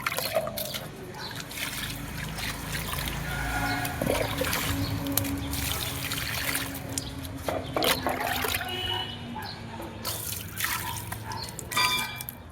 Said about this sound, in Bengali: এবার গাছগুলোতে জল দিয়ে দিই ফটাফট।